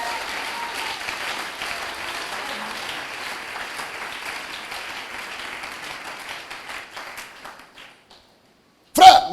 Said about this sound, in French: Acclamons encore très fort le Seigneur